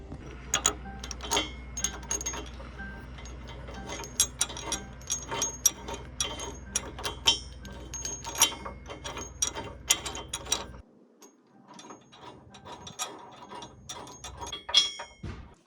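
A 1/2-inch socket ratchet threading bolts into an RV hitch on a bus, rapid clicking pawl strokes in repeated bursts, close up, with a quieter stretch of softer clicks near the end.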